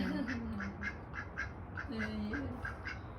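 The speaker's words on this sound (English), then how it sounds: "Oh, look at the duck over there." Several ducks at a farm pond quack in short repeated bursts, moderately close, over steady outdoor background noise. A brief low voice or call sits underneath.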